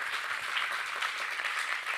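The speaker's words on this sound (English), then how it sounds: "And I think they deserve an applause, definitely." Audience applause for conference panelists at the OECD Forum 2018, a steady dense wash of clapping filling the whole moment at moderate level, with no voices over it.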